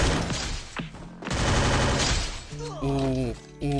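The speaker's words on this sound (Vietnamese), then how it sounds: "Ủa, bạn nào mới bắn Vika đâu quá anh em?" Rapid gunfire rattles through a video game match, dense bursts of shots layered over music and a voice talking.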